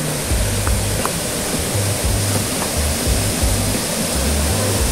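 Waterfall on rural land in Santa Isabel, a loud, steady roar of rushing water filling the whole span, close by, with no voices.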